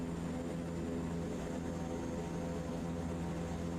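Propeller airplane engine in the Microsoft Flight Simulator 2024 game during a wildfire-fighting flight, a steady continuous drone with a constant hum and no break.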